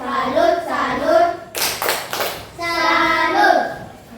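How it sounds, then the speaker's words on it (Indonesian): A classroom of children claps in a quick rhythmic burst for a tepuk salut cheer, chanting in unison before and after the sharp clapping in the middle. "Sekarang kita beri tepuk salut untuk kelompok 2 bagus ya"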